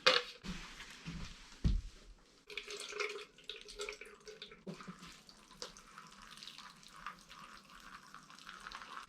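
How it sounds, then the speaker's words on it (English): Water is poured into a plastic shake-mix container with holes punched in the bottom, splashing briefly at first, then trickling and dripping softly and continuously at close range. "Put some holes in the bottom and just put some water in it."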